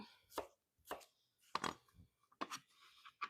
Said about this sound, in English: we're almost done chopping up our potatoes for our home fries